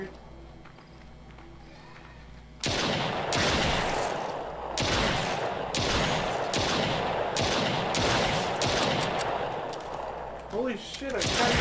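Gunfire in the VR zombie shooter The Brookhaven Experiment, a rapid volley of loud shots with quieter sharp reports following, while a voice speaks over parts of it.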